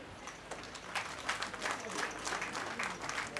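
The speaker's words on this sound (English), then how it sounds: "Please, let's give her a better round of applause as she makes her way to her seat." Audience at Erelu Abiola Dosumu's 50th coronation anniversary celebration claps steadily in a dense, even patter for several seconds, with no voices rising above it.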